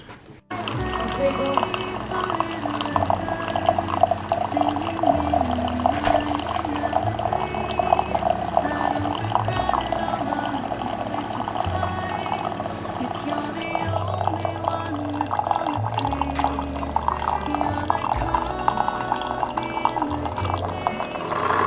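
Coffee maker brewing an 8-ounce cup: a steady hissing, gurgling pour of liquid running throughout with a low mechanical hum beneath.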